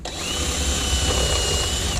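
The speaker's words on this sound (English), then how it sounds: "you're not even measuring to make sure you're drilling into the wood" A power drill bores into a wooden shelf during shelf building, a loud, close, continuous high-pitched motor whine with a grinding low rumble.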